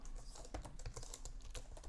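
Computer keyboard typing Arduino code for a DIY RC robot car, a steady run of quick, fairly loud key clicks with no pauses and no talk.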